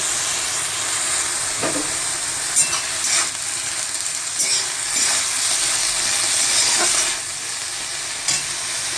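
Leafy white note greens sizzle and fry steadily in a pan, a dense continuous crackle with occasional scraping stir strokes, close and loud throughout.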